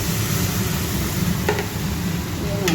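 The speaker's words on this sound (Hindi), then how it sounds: "और अब इस पर छाछ डाल देंगे जो मैंने बेसन के साथ घोल रखी है" Buttermilk whisked with gram flour is poured into a hot kadhi tempering, giving a steady sizzle with stirring and a couple of sharp splashy crackles near the end.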